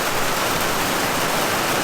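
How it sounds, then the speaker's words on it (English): Rain and hail pour down outside a school bus, making a dense, continuous hiss that stays close and even throughout the brief moment. "it's currently raining and hailing outside"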